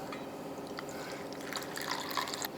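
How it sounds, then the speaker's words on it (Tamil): Water pours and trickles into a container of soaking ingredients for biryani, a soft continuous splashing with small drips, fairly close and quiet. "இல்லை ஒரு டீஸ்பூன் போட்டு தண்ணியை ஊற்றி விடுவோம்."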